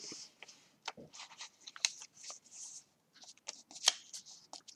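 Paper being folded and creased by hand while making envelopes and notebooks, with close, crisp rustles and sharp crinkling bursts in an irregular rhythm separated by brief quiet gaps.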